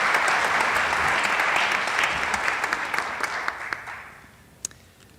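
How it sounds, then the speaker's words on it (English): A graduation ceremony crowd claps in a dense, loud burst of applause that thins into scattered individual claps before fading out near the end. "Let's give Maya another round of applause"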